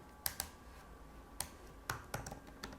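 Typing an email on a computer keyboard, a few quiet, scattered key clicks in short bursts with pauses between, close but faint.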